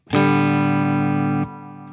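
A Laney Lionheart Foundry Super 60 112 guitar amp with the reverb switched off plays one loud, dry, distorted sustained chord that rings steadily for about a second and a half, then is cut short, leaving a faint tail.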